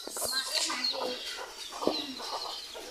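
Hens with chicks kept inside a mosquito net cluck and chirp softly, with thin peeping calls scattered throughout at a moderate distance.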